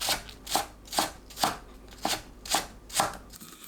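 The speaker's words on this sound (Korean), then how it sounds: "파를 작게 썰어줍니다" Green onion being chopped into small pieces on a cutting board, steady rhythmic knife strokes about two per second, close and clear with no talking.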